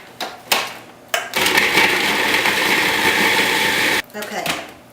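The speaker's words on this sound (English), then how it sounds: "so I'm going to chop up these onions" A food processor whirs steadily for about three seconds as it chops onions, with brief knocks and handling clatter before and after the burst of motor noise.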